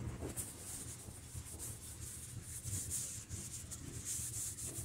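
A cloth quietly wipes excess finish off a piece of rough-sawn scrap wood, giving soft, steady rubbing strokes close by with no voices.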